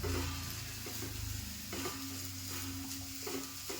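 Bitter gourd roasting in a small amount of oil in a home pan, a steady soft sizzle with scraping stirs recurring about every second, close and continuous with no talking.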